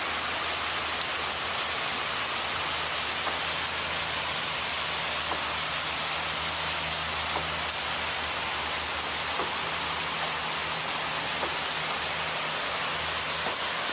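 Steady rain falls on a garden, a dense, even hiss of drops on soil and leaves that holds at the same level throughout, with a low hum underneath and no one speaking.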